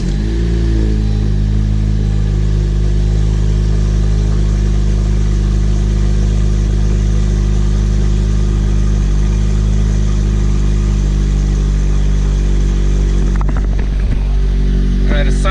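A turbocharged Honda Civic FK7 sport hatchback engine runs steadily at idle right after a turbo install, a loud, constant close-up drone that holds throughout, with a brief clatter near the end.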